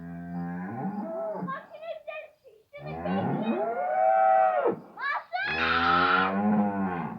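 Cows moo in a barn, with several long, loud, drawn-out calls close by, one following another with short gaps between them.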